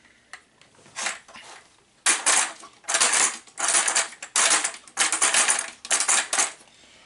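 Small screws for a model engine clatter and rattle as they are handled, a run of repeated metallic jingling bursts at close range with brief pauses between, no voices.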